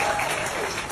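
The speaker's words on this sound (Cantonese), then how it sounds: "我哋再大聲嘅掌聲送俾呢一位呢位朋友" An audience at a health-device testimonial gathering claps in a dense, steady burst of applause that fills the whole short moment at an even loudness.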